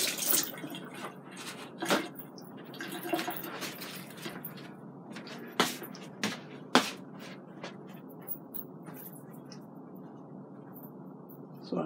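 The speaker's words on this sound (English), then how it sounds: "I don't know if you washed off avocados or not, but I am. Wash it off a little." Avocados being washed under a running kitchen tap, a steady soft splash of flowing water with occasional louder clunks and knocks of the fruit against the sink.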